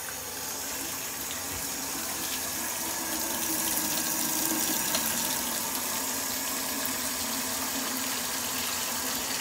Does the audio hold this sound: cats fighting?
no